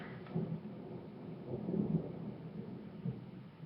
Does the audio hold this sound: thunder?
yes